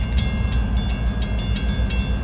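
An M7 commuter train heading from Ronkonkoma to New York, near Deer Park and Farmingdale, makes a steady loud rumble with rhythmic wheel clatter. Faint high tones sit over the rumble throughout.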